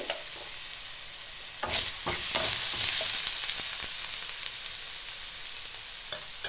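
Crushed garlic sizzles in hot oil for bhindi chorchori, a steady close frying hiss with a few scraping stirs of a spoon in the pan.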